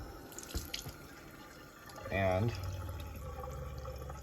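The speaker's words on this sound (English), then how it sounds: "noticeably more water flow" Water runs from a tap in an RV after a new, quieter water pump is fitted, with a brief gurgling surge that settles into a steady flow, and a short spoken word before it.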